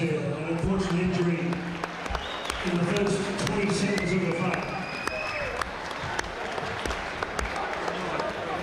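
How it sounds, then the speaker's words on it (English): A boxing crowd at a town hall amateur fight applauds an injured boxer leaving the ring, with scattered claps and murmuring under a commentator's voice, plus whistling and shouts in a busy hall. "Give David Hallett a big round of applause here."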